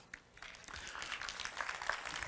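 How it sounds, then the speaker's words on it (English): An audience applauds at a conference closing keynote, a soft spread of many hands clapping that swells after a quiet start and stays steady. "You can all applaud that."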